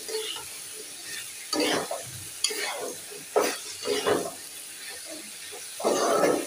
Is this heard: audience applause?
no